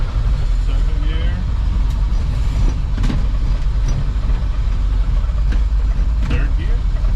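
A 1957 Chevrolet Bel Air hot rod pulls away and runs up through its gears on the road, a steady loud engine and road rumble running throughout with brief knocks, while people talk over it.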